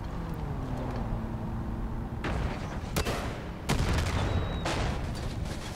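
Explosions and gunfire in the video game Far Cry New Dawn, several sharp booming blasts spaced a second or so apart over a dense, steady roar of game noise.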